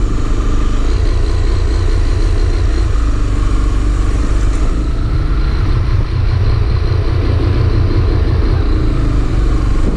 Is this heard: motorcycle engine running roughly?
yes